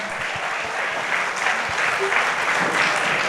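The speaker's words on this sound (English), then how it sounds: "A huge round of applause to the performers for such a deeply emotional and powerful presentation." Audience applauding performers at a Founder's Day variety entertainment celebration, dense sustained clapping from a large crowd, loud and steady throughout.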